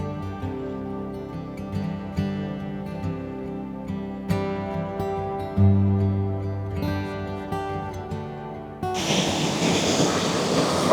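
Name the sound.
rushing water coming down a mountain stream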